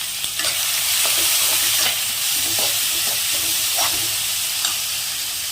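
Onions sizzle and fry steadily in hot oil with fennel seeds and curry leaves, a close, continuous crackling hiss broken by a few brief stirring scrapes.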